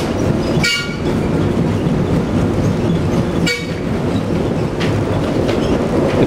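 The Memphis Riverfront Loop trolley rides on rails with a steady loud rumble and clatter, a couple of brief squeals or clanks standing out over the continuous rolling noise.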